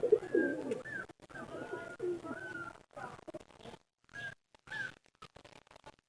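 A pet pigeon with a cold in its eye coos in soft, repeated rounds at close range. The coos are broken by brief pauses and faint background noise.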